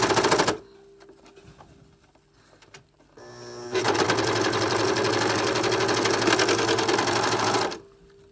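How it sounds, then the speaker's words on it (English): A serger sews elastic onto the leg hole of a gymnastics leotard: a brief whir, a pause with light handling, then a steady fast mechanical stitching run of several seconds, close and loud, with no talk. "So I've serged it off here."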